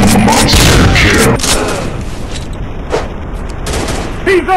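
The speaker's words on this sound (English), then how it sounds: "Suppressive fire on target! I'm shooting these fools up!" Dense, loud gunfire from a commando shooting video game on the Dustown level, with rapid overlapping bursts and booms that are heaviest at the start and stay continuous throughout.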